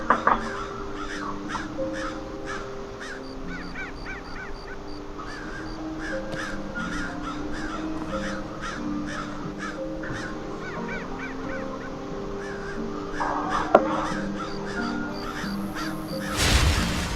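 Crows caw repeatedly in the video game Skyrim, a series of sharp, rhythmic calls from several birds spread across the scene at moderate distance, with soft ambient background and a brief louder thump near the end.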